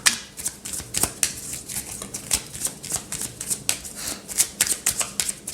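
Tarot cards are shuffled by hand in a quick, continuous run of crisp riffling flutters and soft slaps, close up and fairly quiet, with no voice over them.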